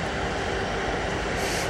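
A Kansas City Southern freight train with mixed locomotives rolls past on Broadway Street in Fort Worth, Texas, a loud, steady, close rumble of wheels and engines throughout.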